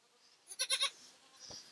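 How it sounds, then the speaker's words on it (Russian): A two-week-old goat kid on a farm bleats in a quick burst of three or four close, high cries, followed by a softer short call, against a quiet background. "Козочка у нас родилась. Козленочек. Чего пищишь?"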